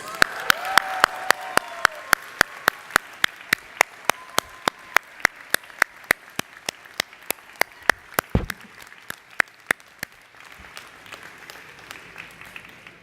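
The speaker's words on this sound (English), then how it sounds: "Find them out in the crowd and give them a round of applause." Graduation ceremony crowd applause at the American University of Paris, a broad wash of clapping with one nearby pair of hands striking loud, evenly spaced claps before it tapers off.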